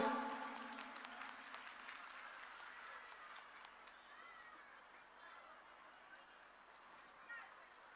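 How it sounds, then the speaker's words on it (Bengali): Applause from the audience at a live music stage event in a Vidyasagar Smriti Mandir hall, loudest at the start and then fading over several seconds into a soft background of crowd noise. "একটা জোরে হাততালি সবার জন্য"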